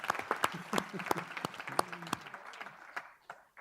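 Scattered hand claps from a small group at a governing board meeting, uneven and moderately loud, with a voice speaking faintly underneath as the clapping tapers off.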